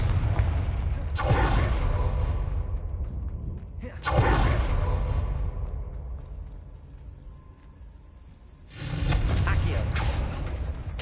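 Spell explosions from Confringo in the video game Hogwarts Legacy, three loud booming bursts with swooshing tails spaced several seconds apart over a steady game background.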